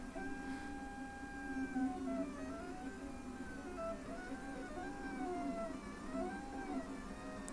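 A LulzBot TAZ6 3D printer begins a print, its stepper motors whirring in quiet, pitch-sliding tones that rise and fall in repeating arcs over a low steady hum, with no talking.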